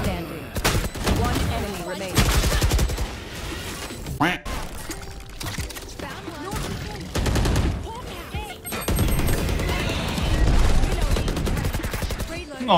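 Rapid gunfire bursts ring out in the tactical shooter Valorant, loud and dense, with brief pauses between volleys and sharp impact and ability sounds. Players talk excitedly over the shooting.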